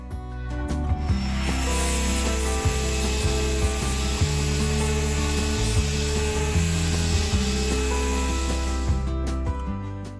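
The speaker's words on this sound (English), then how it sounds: "I'm going to grab my sander and just sand away on the top" An electric sander grinds steadily and loudly across the top of an old wooden furniture piece, a continuous rasping whir with a humming motor tone, then stops near the end.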